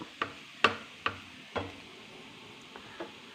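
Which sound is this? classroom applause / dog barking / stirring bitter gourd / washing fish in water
stirring bitter gourd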